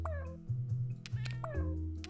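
A cat in a video game meows several times in a row, clear repeated calls over low humming game music, with no talking.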